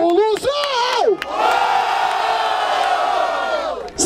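A crowd at a rap battle roars with sustained cheering and shouting, loud and dense for several seconds after a brief voice rises over it.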